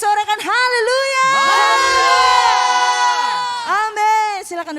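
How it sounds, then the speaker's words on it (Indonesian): A church congregation at a worship service, with no music playing, raises a sustained collective shout of hallelujah, many voices blending into a loud cheering roar that swells and then tails off. "Tanpa musik sorakan haleluya."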